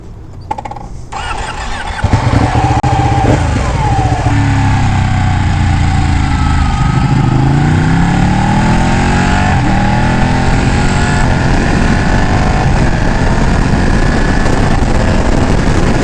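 A Ducati Panigale 1199 motorcycle fires up and then revs and accelerates, its engine climbing and falling through rising and falling pitches. The sound is loud and continuous, close to the listener, with no talk.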